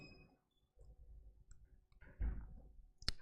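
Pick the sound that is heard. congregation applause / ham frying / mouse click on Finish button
mouse click on Finish button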